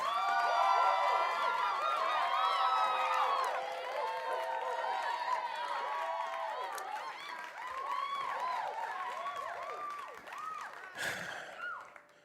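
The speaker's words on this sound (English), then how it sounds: "Round of applause." A crowd cheers and hollers in a loud, sustained burst of many overlapping voices for a round of applause, tapering slightly before a sharp final swell.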